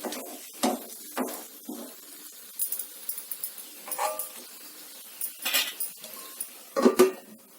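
Brinjal (eggplant) with spice powder is stir-fried in a pan over a low flame with a little oil, making irregular bursts of spatula scraping and metal clinks against the pan, close and fairly loud, with no talking.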